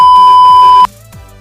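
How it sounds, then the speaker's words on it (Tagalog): A censor beep sounds as one loud, steady electronic tone that cuts off abruptly after under a second, leaving a faint tail. "Censored Beep."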